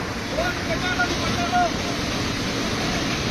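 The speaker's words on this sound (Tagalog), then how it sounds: "Hindi talaga nila kinaya yung lakas ng tubig" Powerful floodwater rushes in a constant loud roar that carries a whole family away, with wind buffeting the microphone and faint voices under the torrent.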